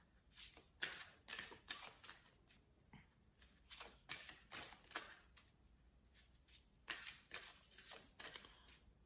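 Oracle cards being shuffled by hand, soft riffling and flicking in quick bursts, close but quiet, with no talking.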